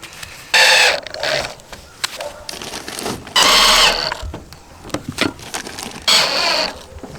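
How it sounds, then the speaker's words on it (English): A power drill whirs in short loud bursts, driving screws into a metal roof on an old mobile home trailer, with rattling and clanking between the bursts, close by. "Let's just start screwing it in and see what it does"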